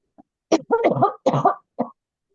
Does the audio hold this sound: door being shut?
no